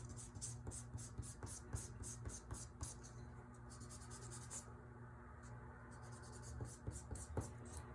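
Rubbing and scratching of an eraser removing heavy pencil lines from a still life drawing, a quiet run of quick strokes in irregular bursts with brief pauses, close and intimate.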